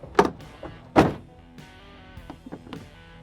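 A Decked storage drawer in a Ram TRX truck bed slides along its track, two sharp thunks about a second apart followed by lighter clicks and rattles, close and fairly loud.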